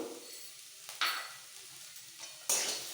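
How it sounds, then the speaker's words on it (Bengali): Turmeric and chilli powder frying in a pan while being stirred, a steady soft sizzle broken by two louder bursts of scraping and hiss as the spoon moves through the spices. "এইগুলো কিছুক্ষণ একটু নাড়াচাড়া করব।"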